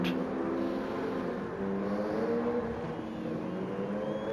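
Race car engines in a racing game drone steadily throughout, a continuous layered hum of several motors with slight pitch shifts, fairly loud and close with no talk over it.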